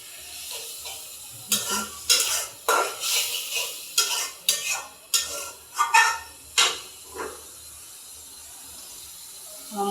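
Spices, plenty of garlic and onion being stirred and fried in a pan, a run of about a dozen rhythmic scraping strokes over a soft sizzle, close and fairly loud, then quieter frying.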